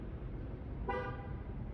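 A single short electronic chirp from a car alarm being set, brief and fairly faint over a low outdoor background hum.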